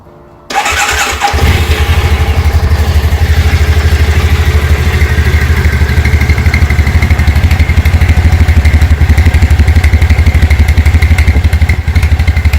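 A Triumph Bonneville motorcycle with its stock exhaust starts up from cold and settles into a steady, loud, close idle with an even low-pitched rumble.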